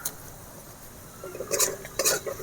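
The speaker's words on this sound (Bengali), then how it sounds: "মশলা ভালো করে ভেজে নিতে হবে, না হলে মশলা থেকে একটা গন্ধ ছাড়বে।" Spices with turmeric and chopped tomato being stirred and fried in a pan, giving a quiet background sizzle with a couple of brief utensil scrapes and clinks near the end.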